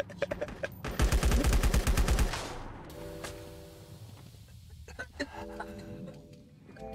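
Gunfire rings out in the survival shooter LifeAfter: a rapid automatic burst of loud, close shots for about a second and a half, followed by scattered single shots and clicks with faint voices in the background.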